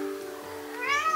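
A domestic cat meows indoors, one clear drawn-out call that rises and falls, close and fairly quiet, heard on its own.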